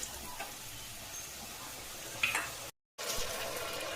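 Mango pieces sautéed with spices in a pan give a faint, steady sizzle with a few soft stirring scrapes and a brief drop to silence partway through.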